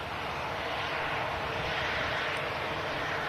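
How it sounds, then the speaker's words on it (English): A Boeing 737 with a special tail livery touches down on runway 23 right at Manchester, a steady broadband engine roar with a constant rushing wash that holds at an even, fairly loud level throughout, with no voices. "737 touching down on 23 right at Manchester"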